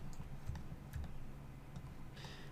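Soft, quick keystrokes and clicks of keyboard shortcuts tapped on a computer keyboard while 3D modeling, faint and close in a quiet room, with no talking.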